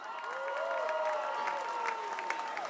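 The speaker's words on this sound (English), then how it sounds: "let's hear it for Stella Traylor and Henry Michael." A crowd at a high school football game applauds and cheers steadily, a broad wash of clapping with a few whoops rising above it, with music or a tone running underneath.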